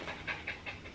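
Dogs pant in quick, rhythmic breathy bursts, four or five puffs in about a second, fairly close but soft, with no voices.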